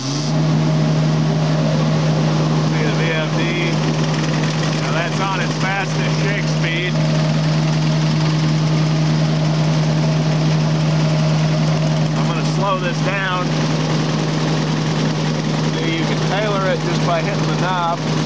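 An Oliver 50B gravity table seed separator, not bolted to the floor, runs with a loud steady machine hum and rattling shake throughout, while someone talks over it at times.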